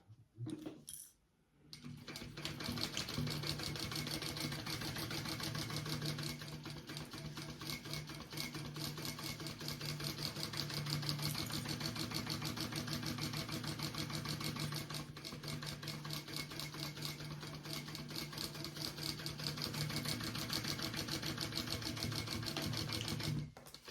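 A sewing machine bastes fabric for a sling bag, running in a long, steady, close chatter of rapid stitches with only a short pause near the start.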